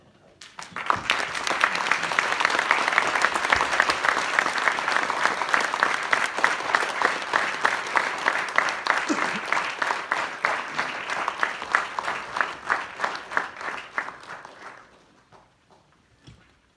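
An audience applauds Mrs. Damayanti Tambe as she stands. The clapping rises quickly to a full, steady roar, then thins into scattered individual claps before fading out.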